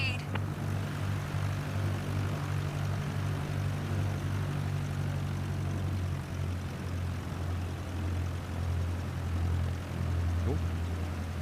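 A propeller aircraft engine runs at low power while taxiing in Microsoft Flight Simulator, a steady, droning hum with a constant low tone that holds throughout.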